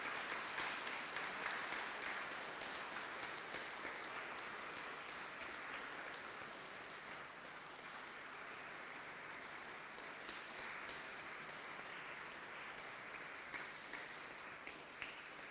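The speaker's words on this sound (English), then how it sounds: "Let's give them a round of applause." Church congregation at an Anglican Sunday mass applauds an anniversary couple, a steady wash of many hands clapping in a reverberant space, moderately quiet and sustained for the whole stretch, fading slightly toward the end.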